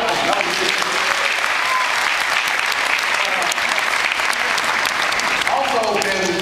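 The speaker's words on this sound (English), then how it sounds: "Clap it up." A crowd at a San Jose State campus talk claps loudly and steadily throughout, a dense, close burst of applause, with a voice rising briefly over it near the end.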